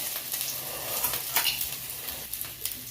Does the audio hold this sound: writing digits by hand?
no